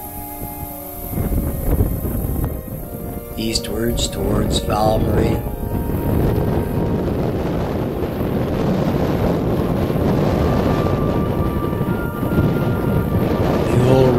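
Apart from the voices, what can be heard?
wind blowing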